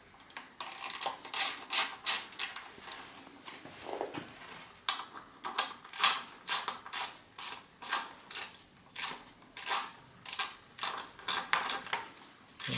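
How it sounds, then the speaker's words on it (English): A torque wrench ratchets as it tightens the bolts of a one-piece BB30/PF30-style bottom bracket on a bicycle. About twenty sharp metallic click bursts come in a steady rhythm, close and clear with no talking. "I've got a torque wrench, so you just need to tighten it up fairly evenly"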